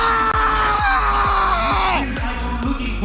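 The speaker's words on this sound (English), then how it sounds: "Could we get a new scream now?" A person screams at full volume for a loudness challenge at a League of Legends esports playoff event, one long sustained shriek lasting the whole moment over a roaring arena crowd.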